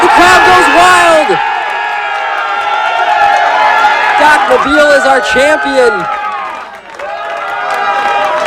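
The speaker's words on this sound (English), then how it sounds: "The crowd goes wild!" A poker tournament crowd at a live final table erupts in loud cheering, whoops and applause after a one-outer river card decides the championship, a sustained roar with excited shouting layered over it, while a voice speaks through the noise.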